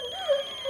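A telephone rings in a Hindi TV drama scene, a brief electronic tone with steady harmonics that swells slightly toward the end.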